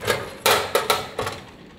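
An Avid HDX card goes into the rear slot of its chassis with a few sharp knocks and clicks, four or five close, quick impacts with short gaps between them and no talk.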